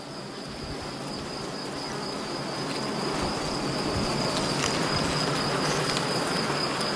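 A colony of black honeybees hums during a hive inspection: a dense, continuous buzzing swarm close by, steady and slightly rising in loudness, with occasional individual bees passing near; no talk.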